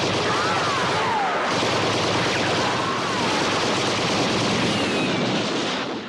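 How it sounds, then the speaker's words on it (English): Crater guns fire in a Doctor Who scene, a dense continuous roar of heavy gunfire and rumble that holds loud for several seconds before easing off. "Crater guns open fire."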